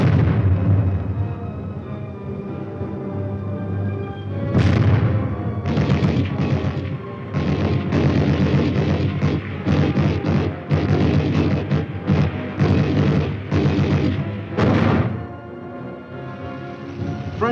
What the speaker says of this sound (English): Tanks move up to exploit the havoc wreaked by atomic artillery, all part of the same coordinated advance.